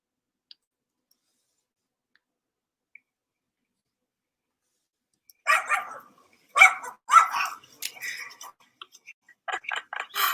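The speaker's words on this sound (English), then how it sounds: "there's a dog in the background" A dog barks in the background of a room, in several sharp, uneven bursts that grow louder after a stretch of near silence, with faint clicks at the start.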